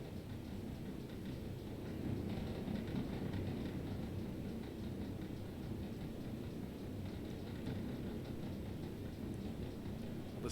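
A GWR 2-8-0T steam tank locomotive coasts without power in Train Simulator 2021, giving a soft, steady rolling rumble with faint wheel clatter throughout.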